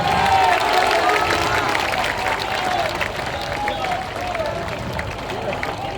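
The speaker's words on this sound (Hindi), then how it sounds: "जोरदार ताली बजाइए।" A political rally crowd in Bihar clapping and cheering loudly, a dense wash of applause with shouts that tapers gradually over six seconds, with voices audible in the mix.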